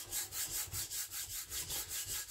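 A knife edge is stroked across a sharpening stone in steady back-and-forth passes, about eight evenly spaced rasping strokes, close and alone with no voices.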